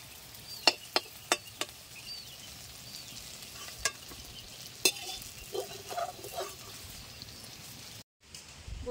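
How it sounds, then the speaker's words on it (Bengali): Koftas fry in hot oil as they are lifted out, a soft continuous sizzle broken by sharp clicks and scrapes of a utensil against the pan, then a brief silence near the end. "কোপ্তা ভাজা হয়ে গেছে"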